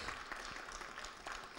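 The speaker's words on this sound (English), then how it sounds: "So another round of applause, please." Audience applause at a talk about new Internet pioneers, a steady dense patter of many hands clapping throughout, fairly faint and distant.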